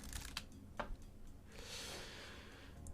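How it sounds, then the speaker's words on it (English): Soft, close taps on a computer keyboard while typing a search into a web browser, a few scattered quick clicks over a faint steady background hiss. "I'm going to type in illustration."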